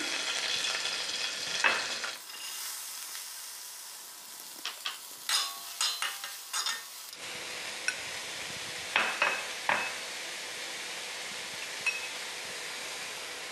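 Green chillies fry in hot oil in a home kitchen, a steady crackling sizzle with a run of clinks and stirring scrapes from a utensil against the pan partway through.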